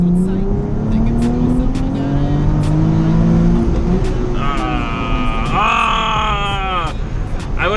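Nissan 370Z pulling hard in second gear, its engine note climbing steadily in pitch as it accelerates, with people talking loudly over the engine throughout.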